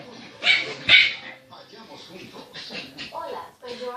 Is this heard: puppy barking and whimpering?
yes